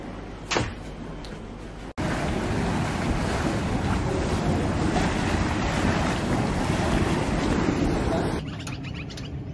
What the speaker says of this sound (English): Typical Australian beach.